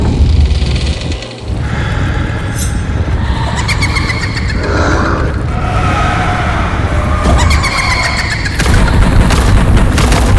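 Ancestral porcelain tablets blow up in a dramatic effect: a loud, close blast that follows a brief dip and then rolls on as sustained heavy rumbling and crackling debris.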